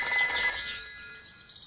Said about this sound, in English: I'll ring Granny Pig